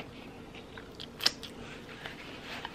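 Close chewing of a bacon burger and fries, soft mouth sounds with one crisp crunchy bite and a few smaller crunches, no talking.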